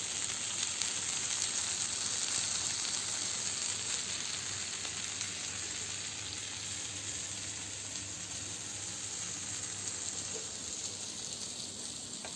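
Food frying on a hot tawa griddle in a home kitchen, a steady continuous sizzle and hiss holding at an even level throughout with no talk.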